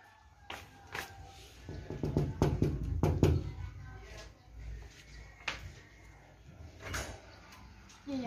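Someone knocks on the doors of rooms in a building: scattered, sharp wooden raps of varying loudness, some clustered and others spaced apart, with quiet background movement between them.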